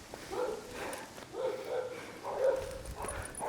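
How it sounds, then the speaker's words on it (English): A big dog barks several times in loud, deep woofs spaced about a second apart, with some rustling and movement at a campsite in Argentina. "Oh, that's a big dog."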